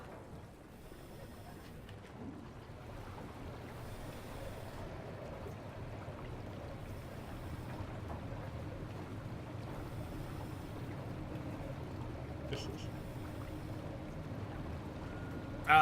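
A tunnel glider boat cruises in Wolfenstein: The New Order, giving a steady, low engine-and-water drone that runs unbroken and alone at an even loudness, swelling slightly toward the end.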